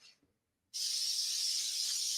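Cooking spray hisses onto a griddle in one steady, loud, close burst lasting well over a second, with a faint rustle just before it.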